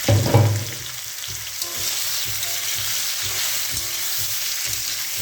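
Olives hit hot oil with panch phoron tempering for a sweet olive pickle, bursting into a loud sizzle, then a steady close frying hiss broken by soft scraping stir strokes.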